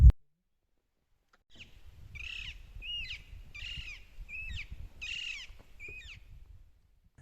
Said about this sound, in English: Nothing much could be heard except the chirping of parrots and other birds